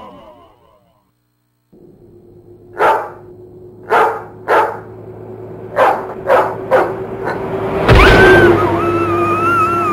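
A dog barks several times in sharp, well-spaced bursts over a steady low hum, close and loud, followed by a brief noisy clatter with a bright whistling tone near the end.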